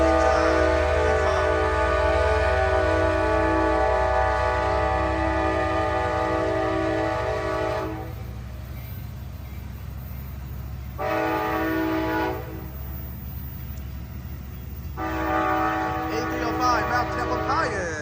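Amtrak Capital Corridor train with a 2001 F59PHI locomotive departing Fremont Centerville station, its multi-tone horn sounding loud in repeated blasts with gaps, over a steady rumble of rail cars rolling past.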